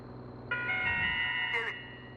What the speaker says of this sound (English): a phone call that sounds extremely urgent, followed by a nice little da-na-na-na chime